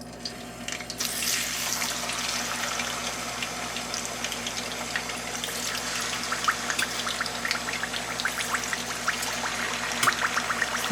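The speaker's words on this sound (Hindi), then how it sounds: "तेल थोड़ा गर्म हो जाए तो इसके अंदर हम चिकन डालेंगे।" Chicken pieces dropped into hot oil for Balochi tikka start a sudden, loud hiss after a brief quiet moment. The close, steady frying roar then continues unbroken, with no talking.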